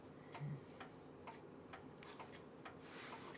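Clock ticking steadily in a quiet room, regular faint ticks about every half second, soft and close with low background hum, no talk.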